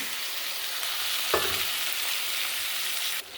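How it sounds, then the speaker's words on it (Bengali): Cauliflower sautéing in a pan with ground spices and green chili for a curry: a dense, continuous sizzle close by, with one brief utensil knock partway through. "মশলার সঙ্গে ফুলকপিটা কষে নেব।"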